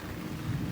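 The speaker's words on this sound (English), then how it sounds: "so it's thundering right now. It's raining right now." Rumbling thunder over steady rain outdoors near a horse in a field, a dense continuous wash of low rumble and hiss with no voices.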